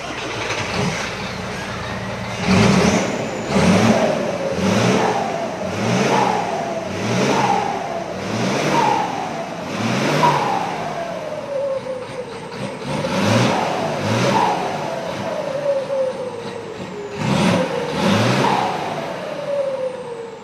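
A Fuso 6M60 truck engine, freshly remapped, revs hard in a series of short, repeated bursts, each climbing and falling away, loud and close, with a couple of longer pulls near the end.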